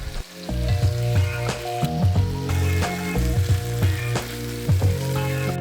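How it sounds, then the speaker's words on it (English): Oxtail searing fat side down in a pot for Caribbean stew, a loud continuous close sizzle with crackling and intermittent scrapes and knocks as the pieces are turned, no talking. "Start by searing the edges fat side down to bring out all the flavor and continuously rotate until all the sides have browned."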